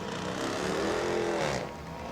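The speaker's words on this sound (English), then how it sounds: "Pro Late models firing up" Pro Late Model race car engines fire up together at the New Smyrna speedway, making a loud, steady, rough rumble that holds and then eases slightly near the end.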